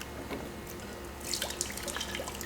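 Water splashes and trickles out of a liquid filling machine once its filling head is removed, a faint dribble first, then a brighter, louder spatter through the second half.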